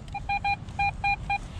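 A metal detector gives a repeated beeping tone over a shallow buried target, six short evenly spaced pulses, clear and close above low background rumble.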